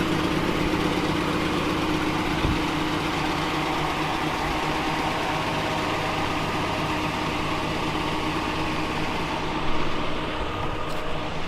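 A Jaguar E-Type V12 idles with a deep, steady growl heard close by outdoors in a rural area, continuous and even throughout with a slight bump near the end.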